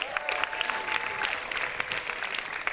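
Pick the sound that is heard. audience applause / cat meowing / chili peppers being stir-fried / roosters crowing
audience applause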